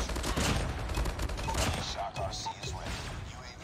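Sentry gun firing during a Call of Duty Mobile match, rapid bursts of automatic gunfire layered with other shots and game effects, dense and loud throughout with a voice speaking over it.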